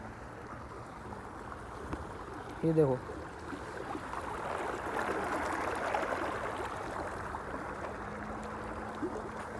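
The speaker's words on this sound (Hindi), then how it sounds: "अभी जो पानी है ना वो गर गर गर करके आवाज़ कर रहा है" Irrigation water gurgles and rushes through a farm field at night in a steady, fairly faint wash, while someone speaks briefly over it.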